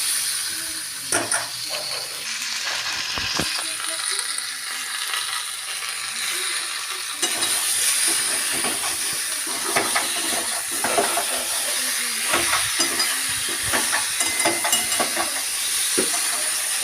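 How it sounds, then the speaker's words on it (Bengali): Vegetables fried with turmeric in a pan for a fish curry, a continuous close hiss and sizzle with repeated scraping and clattering strokes of a spatula stirring them throughout. "এখন আমি এটাকে ভালো করে আবারও ভালো করে নাড়াচাড়া করে নিলাম"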